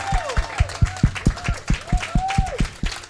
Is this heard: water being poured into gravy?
no